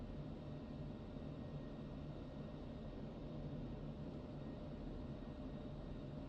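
A jet aircraft in the DCS combat flight simulator game, its engine giving a steady, loud broadband rumble and roar that holds evenly throughout, with no talking.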